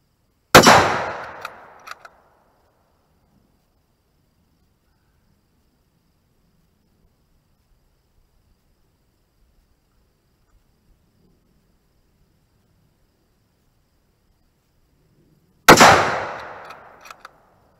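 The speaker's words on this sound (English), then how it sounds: "I might take a few more shots out of the Tikka." Two sharp Tikka T3 rifle shots at an outdoor target range, one near the start and one about fifteen seconds later, each a loud crack with a short echoing tail, separated by quiet.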